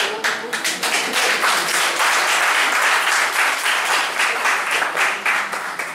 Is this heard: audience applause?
yes